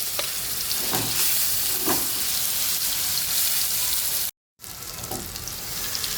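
Crushed raw mango paste hitting hot oil with cumin seeds for kachi keri chutney, a loud steady sizzle and crackle with a few stirring scrapes, broken by a brief silent gap before the frying resumes.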